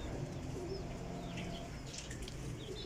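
Teddy pigeons kept for sale coo softly among other bird calls, low throaty murmurs over a continuous noisy background.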